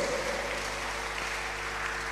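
Faint, distant hand-clapping from a church congregation at a prophetic prayer service, a brief, even wash of claps over a low background hum.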